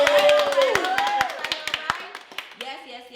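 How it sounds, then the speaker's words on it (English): A few women clap together at a podcast recording, a sparse run of sharp, close handclaps that thins out over talk and laughter. "Let's clap it up, ladies"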